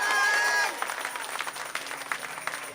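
A brief sustained tone gives way to a church congregation clapping, a steady patter of applause at moderate distance with no speech over it.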